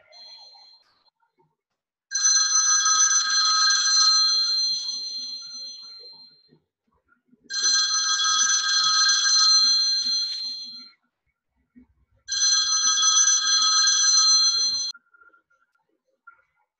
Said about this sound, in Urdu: کبھی ٹیلی فون گھنٹی بجنے لگتی ہے۔